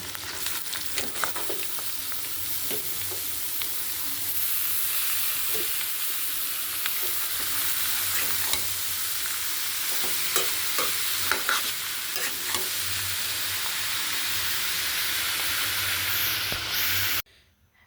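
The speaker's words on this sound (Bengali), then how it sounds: "সব পেঁয়াজ আর ডিম কাঁচামরিচ দিয়ে দিচ্ছি বাগারের জন্য" Onion, egg and green chili hit hot oil for a tempering, giving a loud, steady broadband sizzle close by, with occasional stirring clicks, cutting off abruptly near the end; no speech.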